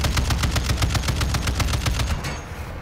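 A vehicle-mounted machine gun fires a rapid, steady burst of loud, evenly spaced shots in Call of Duty: Modern Warfare II DMZ, the rattle running continuously for nearly three seconds before tailing off.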